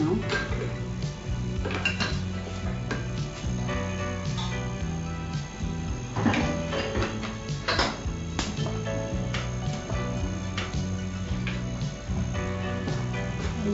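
Pots, pans and metal utensils clatter and clink repeatedly in a kitchen while hotpot is cooked, a busy, close sequence of sharp knocks and scrapes over a low hum, with no speech.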